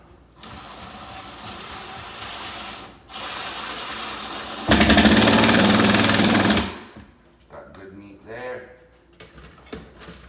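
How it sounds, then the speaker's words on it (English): A power driver drives a screw into a kitchen shelf bracket in one loud, steady two-second whir, with quieter handling noise and low rumbling before it and faint shuffling after. "Now I set my screw perfectly."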